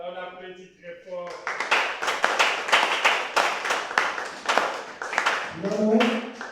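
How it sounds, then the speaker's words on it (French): Church audience clapping loudly in a quick, regular rhythm, sharp distinct claps filling the middle of the clip, with a voice speaking at the start and singing or speaking again at the end. "On applaudit très fort."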